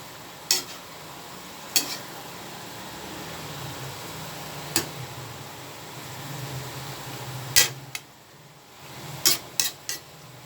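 Tofu stirred into a pan of sizzling kangkong: a steady frying hiss with scattered sharp scrapes and clinks of a utensil against the pan, several in quick succession near the end.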